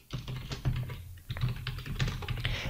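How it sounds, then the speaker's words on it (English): Rapid computer-keyboard typing of code, a steady patter of close, fairly loud keystrokes with brief pauses, heard alone without any voice. "I will just type stupid pseudocode here"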